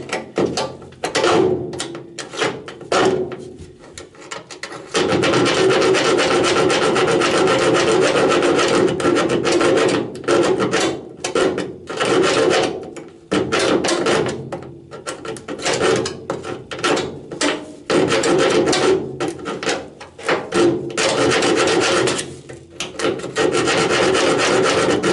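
A hand saw blade rasps back and forth through layered steel body panels of a Citroën Traction 11B, a loud, rough, rhythmic scraping in bursts with short pauses between strokes.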